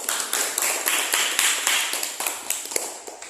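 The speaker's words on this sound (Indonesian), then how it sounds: "Nah, tepuk tangan dulu." A classroom of students claps hands together in a lesson on fish farming, with quick, slightly uneven claps ringing out in a steady patter for a few seconds, fairly close and without any talk.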